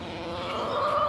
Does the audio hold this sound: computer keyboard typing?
no